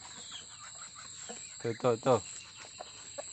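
In a small rural poultry yard, a black chicken gives two or three loud clucks at close range amid quieter background noise and a brief spoken word.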